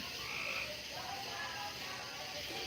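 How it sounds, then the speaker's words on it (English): Bullfrogs croaking outdoors in the country at night, a dense continuous chorus of low croaks heard from a distance at low volume, no talking. "Y'all can hear the bullfrogs out here."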